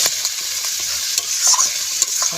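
Fish frying with spices and turmeric powder in a pan, a close, steady sizzle with light crackles and occasional stirring scrapes.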